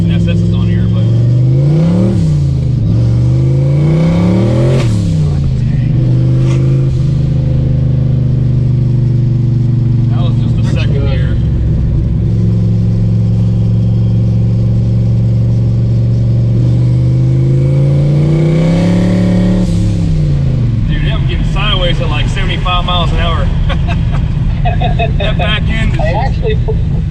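A turbocharged 1986 Ford Mustang on Mickey Thompson tires revs and accelerates hard, its engine note climbing and falling in repeated pulls, loud and close throughout, with a voice speaking over it.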